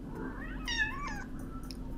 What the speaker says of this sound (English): the kitty says hello